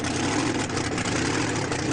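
A supercharged, fuel-injected, methanol-fuelled racing V8 producing 2,800 to 3,000 horsepower runs steadily, a dense, continuous low roar held at constant loudness with no pauses.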